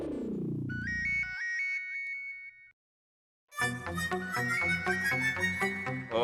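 A mobile phone ringtone plays in a Hindi TV sitcom scene: a short descending tone run, a bright repeating melodic phrase, a brief silence, then a fuller, louder musical ring that continues steadily to the end. No one speaks.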